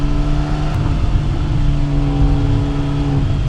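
A triple-black Porsche 911SC coupe drives uphill, its engine holding a steady, loud, droning note with a constant low rumble and no voices.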